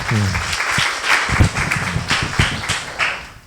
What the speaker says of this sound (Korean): 우리 큰 박수 한번 다시 한번 보내주세요